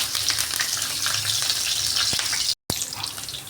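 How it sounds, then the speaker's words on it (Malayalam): Curry leaves hiss and crackle in hot oil in a pan for a fish dish, a loud, close, continuous sizzle with one brief silent gap near the end. "2 തണ്ട് കരിവേപ്പില അതിലേക്ക് ഇടുക."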